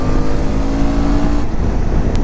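A Suzuki V-Strom motorcycle at about 60 in fourth gear as the throttle rolls on, a loud, close, steady engine drone with a rising hum and wind rush.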